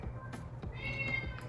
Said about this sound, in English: Excuse the cat crying outside the door right now.